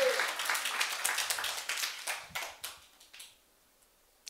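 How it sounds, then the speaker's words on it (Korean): A church congregation at a Sunday worship service breaks into loud, dense applause that carries for about three seconds and then fades quickly to near silence. "주님께 영광의 박수 올려드립시다."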